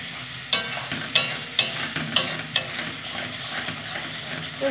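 Dried chillies sizzle in hot mustard oil in a pressure cooker pan with aubergine, stirred in a steady rhythm of about six scraping strokes over a constant close frying hiss.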